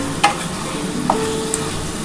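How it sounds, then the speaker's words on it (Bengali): Duck eggs being stir-fried with spice paste in a pan, a soft continuous sizzle with a couple of brief utensil clinks and scrapes. "আমি কিন্তু ডিমটার সাথে খুব ভালো করে মশলাটা কষিয়ে নিচ্ছি।"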